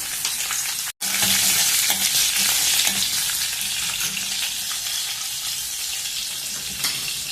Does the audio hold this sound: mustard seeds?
yes